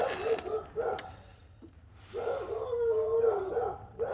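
Dogs bark and yip in short, excited bursts near a garage where a 2003 700 RMK snowmobile engine is being removed, with brief pauses and a drawn-out whining bark toward the end.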